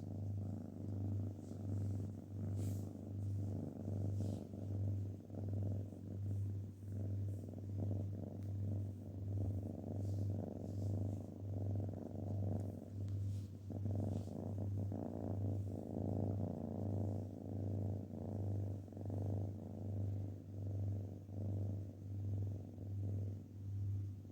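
A cat purrs steadily and continuously up close, a deep rhythmic rumble pulsing with each breath throughout, with no talking.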